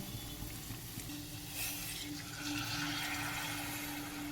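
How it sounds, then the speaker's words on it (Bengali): Hot water pours into a simmering pan of chicken malai kofta curry with fresh cream, giving a steady, soft hiss and gurgle that swells partway through and keeps going, close by and quiet, with no voices. "এবার দিয়ে দেবো এর মধ্যে গরম জল"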